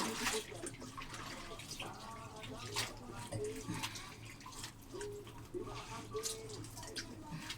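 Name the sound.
hand washing and soaking white laundry in water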